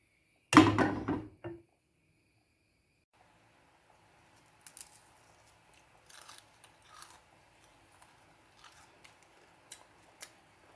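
A crisp sourdough crepe made with chia and glutinous flour snaps under one loud, close bite, followed by a few quieter crunches and then a stretch of faint, scattered chewing.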